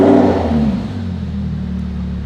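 A car's engine fires up via a Pandora alarm remote start, with a brief loud rev that settles into a steady, even idle nearby.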